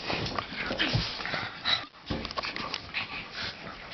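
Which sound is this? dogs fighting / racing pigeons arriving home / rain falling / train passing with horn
dogs fighting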